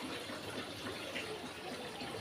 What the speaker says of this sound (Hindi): मुन्नी, बाथरूम में पानी बंद करिया जा।